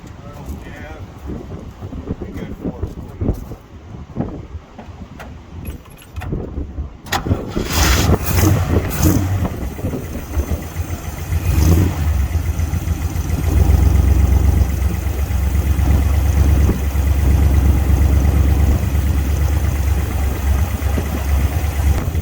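A 1968 Hemi Charger cold-starts and settles into a loud, rumbling idle close to the microphone, with wind buffeting and a voice at times over the engine.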